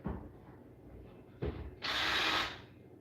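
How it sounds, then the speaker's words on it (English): A power drill whirs briefly and loudly after a couple of dull knocks, then winds down, nearby in a quiet room. "This drill's not gonna work."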